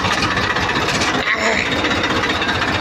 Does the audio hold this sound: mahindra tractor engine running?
yes